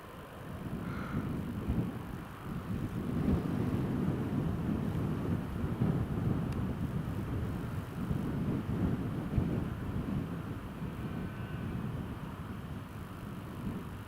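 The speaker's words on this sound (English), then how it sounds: "you're going to see a KLM E195 E2 to Amsterdam pass over" A KLM Embraer E195-E2 airliner passes over near Newcastle Airport as a broad, distant, low rumble that swells and fades slowly, with wind noise buffeting the microphone.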